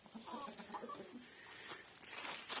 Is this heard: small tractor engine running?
no